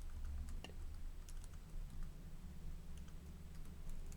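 Quiet typing on a computer keyboard while entering invoice items in Excel, light scattered key taps over a steady low hum, faint and close.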